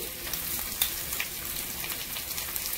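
Ginger paste spluttering in hot oil in a pan, a steady close sizzle and crackle with small pops, moderately quiet and without any voices.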